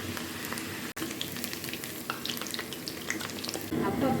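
Small pieces of onion pakoda batter fry in hot oil over a medium flame, a steady close crackling sizzle with scattered pops, with one brief break and a louder burst of bubbling near the end.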